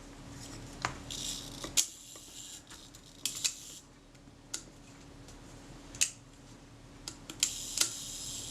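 A Voigtländer Vito B camera's shutter fires repeatedly, giving crisp, close mechanical clicks at irregular intervals against a quiet room.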